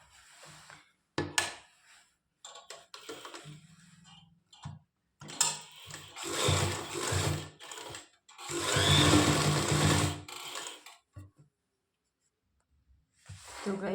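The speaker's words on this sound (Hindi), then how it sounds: "कर लेते हैं इसकी अब सिलाई" A sewing machine stitches a halter neck winter kurti in bursts of running, with short pauses between runs and a longer sustained run near the end, close and moderately loud.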